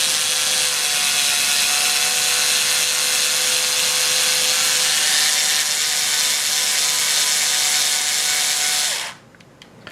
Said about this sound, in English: I don't know if you can hear me when I'm screwing,